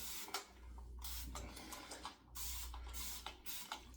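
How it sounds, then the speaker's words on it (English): Repeated short hissing bursts from a spray bottle of Thayer's misted onto a head before shaving, each spritz a few tenths of a second, close and fairly loud with brief gaps between. "We'll spray our head."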